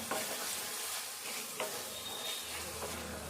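A paneer curry of tomato, onion and chili powder is stirred in a hot pan, with a steady sizzle, a few soft scraping strokes and a low simmering undertone, heard close up.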